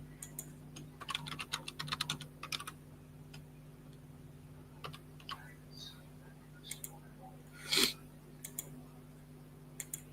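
Typing a password on a computer keyboard: scattered clusters of light key clicks, quiet and close, with a few pauses and one louder click or tap near the end, over a steady low hum.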